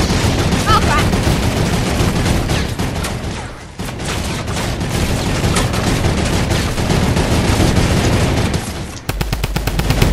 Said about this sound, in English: I hear a turret.